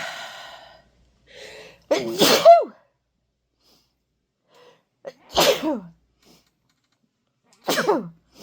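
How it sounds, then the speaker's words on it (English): Three loud, close sneezes spaced a few seconds apart, each preceded by a short sharp intake of breath, with near silence between them. "I'm going to sneeze."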